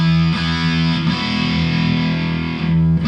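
Electric guitar played through a Keeley-modded Boss DS-1 distortion pedal with the distortion turned down, giving a steady sustained chord with a brief pick attack midway and another near the end.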